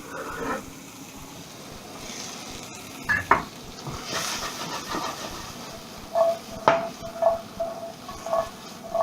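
Vegetables tossed into a hot pan beside pork chops for a tomato pork chop dish, crackling and sizzling steadily close by, with scattered metallic scrapes and clinks of stirring against the pan.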